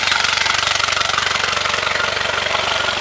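The engine of a 2024 Tahoe 185 S boat idles steadily, a loud, even, rapidly pulsing hum that continues unbroken, with no voices.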